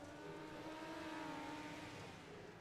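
A midget race car's engine revs in an esports racing game set at Kokomo Speedway, heard as a faint, continuous whining drone with shifting pitch and no talk over it.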